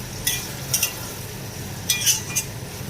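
Chopped tomato goes into fried onions in a pan and is stirred in, with a few close spatula scrapes in two quick clusters over a low sizzle and no speech.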